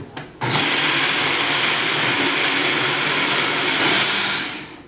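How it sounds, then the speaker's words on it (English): A Tribest personal mini blender with its blending blade whirs a spicy liquid, starting after a short click, roaring loudly and steadily at close range for about four seconds, then winding down as it stops. "And the nicest thing about using this little mini blender"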